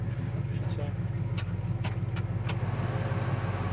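A 1972 Chevy C10 pickup's big block V8 idles with a steady low, lumpy rumble, while people talk nearby over the engine.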